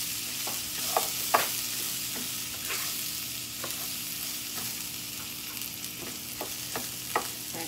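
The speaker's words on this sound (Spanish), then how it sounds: "Aquí ya se doró el ajo." Garlic frying golden in a pan for red rice with vegetables, a continuous close sizzle with light spoon clicks and stirring scrapes scattered throughout.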